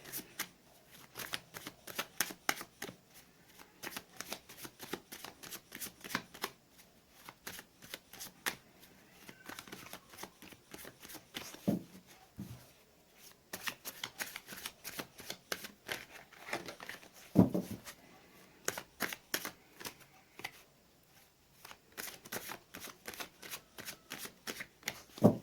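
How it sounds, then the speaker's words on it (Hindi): Tarot cards are shuffled by hand, close and crisp, in rapid repeated riffling bursts separated by brief pauses, with a few soft knocks and no talk. "मैंने कर ली है कार्ड्स की सफलिंग।"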